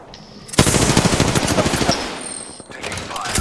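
Rapid automatic gunfire in a video game, a dense burst of close, loud shots in quick succession lasting over a second, followed by a fainter rattle and trailing noise.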